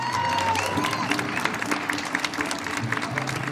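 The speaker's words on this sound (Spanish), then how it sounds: "Un aplauso para el Mariachi Imperial." Crowd applause for a mariachi band at a city anniversary celebration in Chihuahua, dense steady clapping with some cheering mixed in, loud and sustained with a few voices and music tones underneath.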